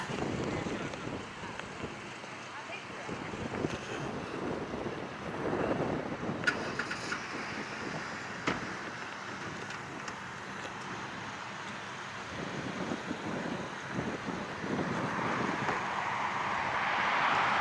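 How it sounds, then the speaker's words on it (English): Strong wind buffets the microphone in rough, continuous gusts at a mountain overlook in the Great Smoky Mountains in fall, with a low rumble underneath that swells toward the end. "Very windy."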